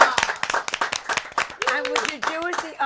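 A talk-show studio audience claps in a steady rhythm of sharp, close hand claps, with voices talking and exclaiming over the clapping.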